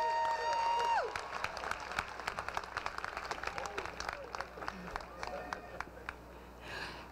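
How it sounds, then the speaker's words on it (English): Audience at a 2018 LATTC graduation ceremony applauding the speaker, a moderate spread of clapping that swells at first and then thins out gradually, with faint voices underneath. "Can we give him another round of applause"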